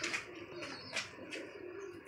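Pigeons coo softly in a few short, throaty calls at close range, with little else around them.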